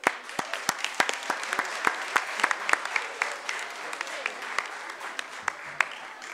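Children clap their hands together in a church service, a burst of sharp, uneven claps from a small group that keeps going steadily for several seconds at moderate volume with no talking over it.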